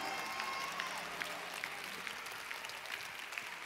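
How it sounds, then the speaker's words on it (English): A church congregation claps along together during a sermon, a steady wash of many hands applauding at moderate distance for several seconds, with no speech over it. "Clap your hands,"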